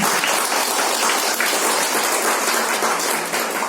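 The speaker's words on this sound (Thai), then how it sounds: "ขอเสียงปรบมือดังๆ ให้กับครูวงศ์หน่อยครับ" An audience at a retirement tribute ceremony applauds a retiring teacher, producing a loud, dense and unbroken roar of many hands clapping together, steady from start to finish with no speech over it.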